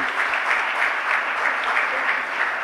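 An audience at a poetry reading claps in a dense, even round of applause that holds steady for a few seconds, with a gentle rhythmic swell and no voices on top.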